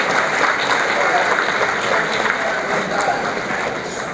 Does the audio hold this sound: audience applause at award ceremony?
yes